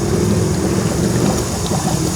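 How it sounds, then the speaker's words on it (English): Air bubbles and gurgles out of the front tire of a 110 TLB tractor as the tire is filled with windshield fluid. The churning, watery rush is loud, close and continuous. "We can hear it bubbling."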